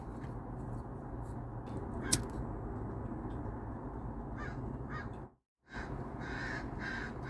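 Birds call faintly in the distance over a steady background hum, a few scattered caws and chirps spread across the clip.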